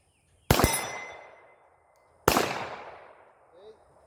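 A Glock 34 pistol fires two sharp, loud shots about two seconds apart, each ringing out and decaying slowly in an outdoor setting.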